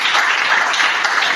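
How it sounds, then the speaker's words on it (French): A congregation bursts into sustained applause during a French church service, a dense steady wash of many hands clapping close and loud throughout, with no voices over it. "Est-ce qu'on peut acclamer le Seigneur?"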